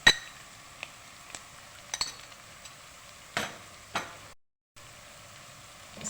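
Vegetables being stirred in a pan with green chilli paste for a mixed vegetable pulao, giving soft sizzling under a few sharp spoon scrapes and clinks against the pan, with a brief silent gap.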